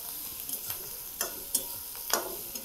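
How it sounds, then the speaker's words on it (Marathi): Onion fries and is stirred in a pan for a village-style vegetable dish, a steady soft sizzle broken by several scraping clicks of the spoon against the pan, close and fairly quiet. "असं मिक्स करून कांदा छान भाजायचा"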